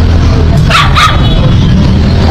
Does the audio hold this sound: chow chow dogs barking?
yes